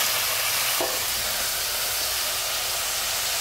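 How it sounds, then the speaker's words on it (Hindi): Chicken curry stirred in a pressure cooker pot: a steady, loud sizzle and hiss, with one brief scrape of the spoon near the start. "इस तरह से चिकन को चला देना है"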